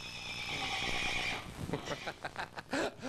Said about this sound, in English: A very, very steady, very, very sweet temperament horse.